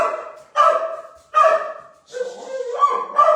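A dog barks outdoors in a garden, two sharp close barks followed by a longer whining, yelping vocalization, loud and alone.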